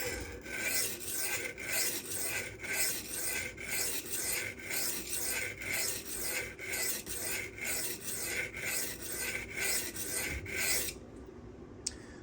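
A custom Rotten Design Evo 4.0 knife in Damasteel stroked across a sharpening stone at around 2500 grit, a rhythmic rasping scrape repeating roughly every half second, close and alone, then stopping near the end.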